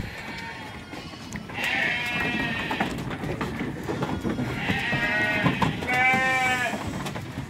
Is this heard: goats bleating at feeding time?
yes